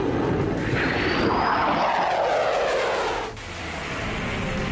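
A fighter jet roars past overhead, its loud engine noise swelling and sweeping downward in pitch as it passes, then fading into a distant rumble.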